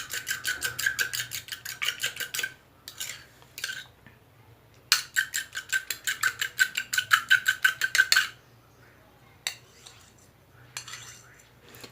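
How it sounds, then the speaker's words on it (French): A raw egg's yolk and white being beaten for a protein hair mask, fast rhythmic clinking of utensil against a bowl in two long bursts with pauses between, close and clear. "Il est important de bien mélanger le jaune et le blanc de l'œuf."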